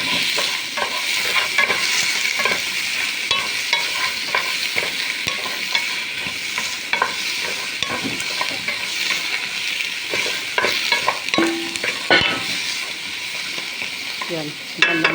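Crab stir-fried in a pan for a ginataang crab dish, a continuous sizzle with scraping and clattering of a spatula stirring, close and fairly loud, with no talking.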